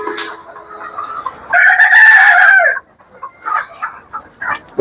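A rooster crows loudly once, a long strained call, with chickens clucking quietly before and after it on a small poultry farm.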